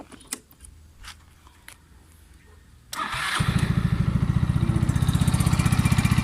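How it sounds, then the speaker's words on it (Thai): A Yamaha Mio 125 scooter engine cranks at about three seconds, catches and settles into a steady, loud, evenly pulsing idle, preceded by faint handling clicks and rustles. "เดี๋ยวมาสตาร์ทเครื่องกันนะครับ"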